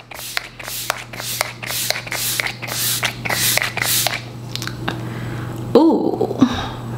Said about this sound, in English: I'm gonna spray down my face.